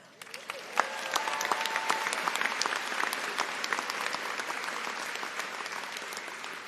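Graduation audience at an art and design college commencement applauding and cheering, a dense steady wash of many hands clapping with scattered whoops, continuous and fairly loud throughout.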